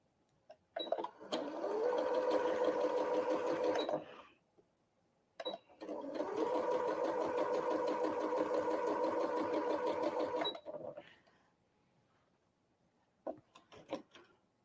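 A domestic sewing machine chain pieces quilt blocks in two long steady runs of rapid stitching, each lasting several seconds, separated by short pauses with small clicks and handling noises close by.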